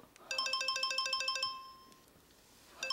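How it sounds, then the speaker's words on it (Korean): A mobile phone rings nearby with a repeating electronic melody of quick bright tones, pausing briefly before the tune starts again. "이 서방 전화 온다."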